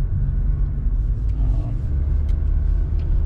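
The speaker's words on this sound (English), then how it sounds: "See a lot of cars coming right now." Cars driving past on a neighborhood street, a steady low rumble of passing traffic that stays fairly close and continuous, with a voice talking over it.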